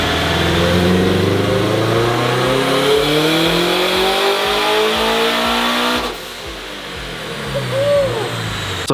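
A turbocharged Subaru BRZ on a dyno revs hard and loud, engine pitch climbing steadily through a long pull before dropping off near the end into a lower idle with a brief blip.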